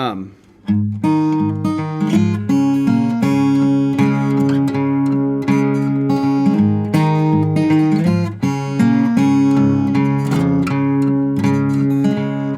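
Steady plucked acoustic guitar notes ring out in a flowing fingerpicked pattern, close and clear, with no voices.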